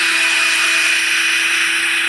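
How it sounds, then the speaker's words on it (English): A power drill bores into plywood during garage bench building, a steady loud whine with a sustained pitched tone running unbroken throughout, close to the microphone with no talk. "I'm gonna break this fucking drill bit"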